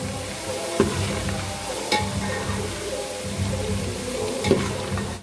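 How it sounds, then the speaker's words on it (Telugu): Ginger garlic paste fries in a pan with a steady, close sizzle as it is stirred, broken by occasional scrapes and knocks of the spoon. "అల్లం వెల్లుల్లి పేస్ట్ చేసుకొని తిప్పేసుకుందామండి పచ్చి వాసన పోయే వరకు తిప్పేసుకుందాము"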